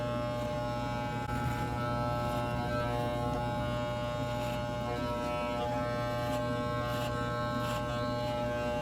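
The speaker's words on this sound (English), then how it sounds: "She's gonna use both of the razors." Electric razor running steadily at the back of the neck to clean up fine hair during a home haircut, a continuous close buzz with a strong hum lasting throughout, no talking over it.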